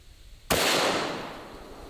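A single loud handgun shot from a Desert Eagle .50AE or .500 Magnum, a sharp close blast followed by a short fading echo, after a quiet moment.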